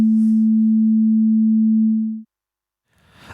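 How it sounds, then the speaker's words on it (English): A pure sine wave tone from a Z3TA 2 software synthesizer holds steady at a low pitch for just over two seconds, then cuts off abruptly, leaving silence before faint noise returns. "The first wave shape we have is the sine wave."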